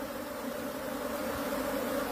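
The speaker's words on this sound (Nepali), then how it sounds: "मौरी आयो।" A honeybee buzzes with a faint, continuous drone close to the listener, steady throughout with no talking.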